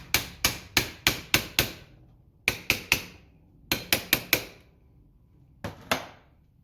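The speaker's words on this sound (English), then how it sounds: "Let's find a starter hammer." Hammer strikes on a dirty, rusty, corroded outboard motor starter from a Johnson Evinrude engine. Sharp metallic blows land in quick bursts of five, three, four and two, loud and close, with no talking.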